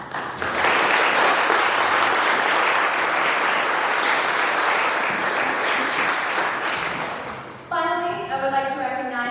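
Audience applause for board members of the trustees standing at an 8th grade culmination ceremony, dense steady clapping from a large crowd that fades toward the end and gives way to a voice.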